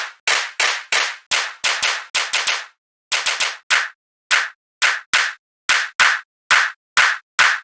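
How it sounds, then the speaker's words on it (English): A snappy, post-processed drum clap sample fires repeatedly in a crisp rhythmic pattern, each hit sharp and bright with a quick decay, some in fast pairs and others spaced evenly, with brief silences between. "Let's grab a thick kick, a snappy clap. Let's post-process the clap as I usually do."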